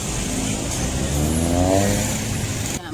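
A motorcycle with a loud racing exhaust at a police crackdown, revving continuously with a rising, rasping engine tone that swells and then drops off abruptly at the end, close by and without talk.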